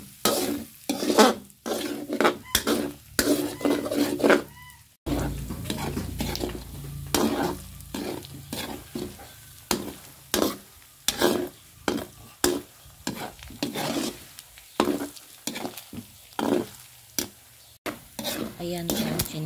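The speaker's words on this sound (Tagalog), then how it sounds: "first step, prito natin yung bituka" Pork intestines frying and sizzling in a pan, with repeated stirring and scraping strokes in an uneven rhythm, close by.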